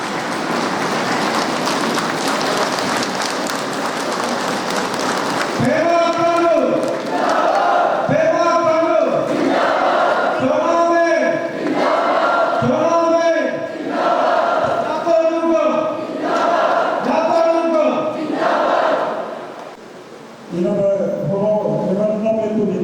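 A crowd at an International Labour Day celebration in Pasighat gives a standing ovation. A few seconds of dense, steady clapping are followed by loud, rhythmic group shouts that repeat in regular bursts.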